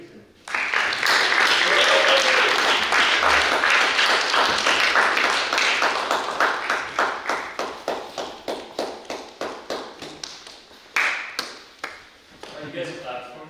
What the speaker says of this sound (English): You guys clapped for me?